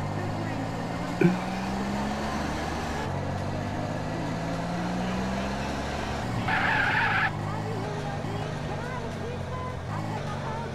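Car driving in the video game GTA San Andreas, a steady engine drone with tire skids and squeals, including a brighter burst of squealing partway through, with voices speaking over the game sound.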